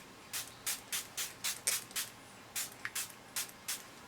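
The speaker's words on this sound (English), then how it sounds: "So use your mattifying spray" A mattifying setting spray misted in a rapid series of short soft hissing spritzes, about a dozen quick bursts close to the mic, alone and fairly quiet.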